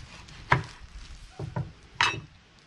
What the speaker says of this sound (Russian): Надо нарезать 5 кусков сала.